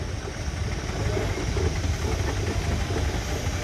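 A miniature Burrell Scenic Showman's traction engine runs at an outdoor parade in Rempstone, giving a steady low chuffing rumble at close range with a continuous engine drone and no clear speech.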